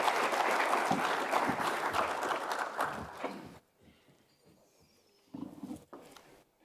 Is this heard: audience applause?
yes